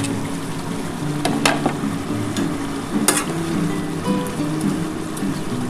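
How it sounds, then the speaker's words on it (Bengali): Katla fish heads dropped into boiling curry gravy in a pan, giving a steady bubbling sizzle with a few sharp splashes and clatters near the start and around the middle, close and fairly loud, with no talking. "বন্ধুরা দেখো, আমার কিন্তু ঝোলটা ফুটে উঠেছে। এবার আমি এই মাছের মাথাগুলো দিয়ে দিলাম।"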